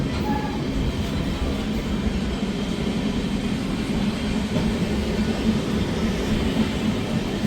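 Amritsar–Haridwar Jan Shatabdi passenger train running toward Ambala Cantt, heard from inside a coach: a loud, continuous rumbling roar of wheels and carriage with faint rhythmic clatter, steady throughout.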